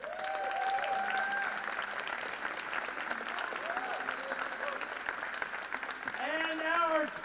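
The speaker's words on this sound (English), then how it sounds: "we have a nice round of applause for our runner-up, our silver medalist" Applause for Team Great Britain, runner-up at the 2022 Predator WPA World Teams pool championship: continuous crowd clapping from a hall audience, with some cheering and whistling near the end.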